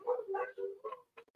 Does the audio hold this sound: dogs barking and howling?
yes